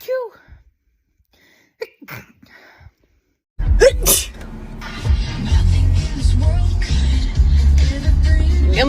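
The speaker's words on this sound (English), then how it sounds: "not being able to stop sneezing" A girl sneezes repeatedly: a few sharp sneezes break a quiet room, then a louder stretch follows with steady background rumble and voices.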